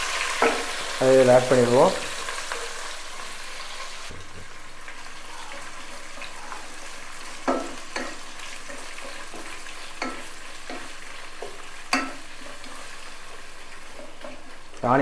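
Half a kilo of sliced onions fry in oil for chicken tikka biryani, giving a steady, close sizzle broken by a few stirring scrapes and clicks, with a short stretch of talk early on.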